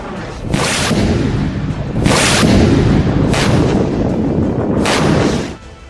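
A missile barrage launched by Houthi fighters against Israel: a continuous loud roar of explosions and blasts, with four sharp bursts standing out over about six seconds.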